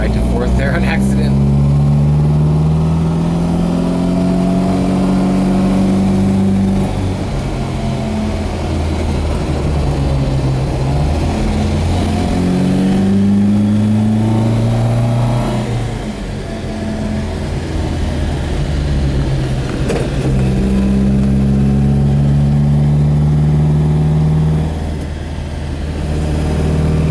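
A 1967 Volvo Amazon 122S station wagon with a B18 dual-carburettor engine drives along steadily, its mid-pitched engine note rising and falling through gear changes, loud and close from inside the car, with talk on top.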